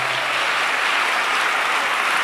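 Audience clapping steadily for a church television panel, a dense, even wash of applause that fills the whole moment without a break and with no voices over it.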